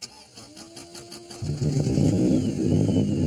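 Motorbike engine on the World's Fastest Motorbike build cranks and catches, then settles into a loud, steady rumbling idle with throttle revs, close to the microphone after a brief whining starter sequence.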